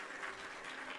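A brief burst of applause sound effect, triggered by a livestream chat command, fills the whole moment as a steady, fairly faint crackle of clapping with no voices over it.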